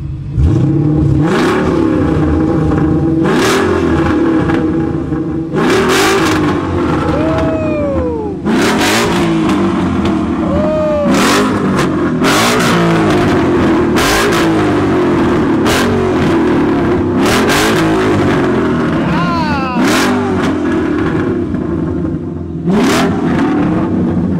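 A car engine idles loudly and is blipped repeatedly, each rev rising sharply then falling back, with several quick bursts spread across the clip.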